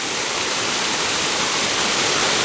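A waterfall in Cuenca roars as a dense, steady, close rush of water with no break or other sound.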